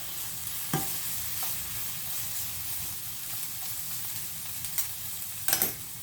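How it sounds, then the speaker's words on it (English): Ingredients for a hamburger steak gravy sauté quietly in a pan: a steady, low sizzle with a few brief clicks and scrapes of stirring scattered through it. "We're just going to saute them just a little bit"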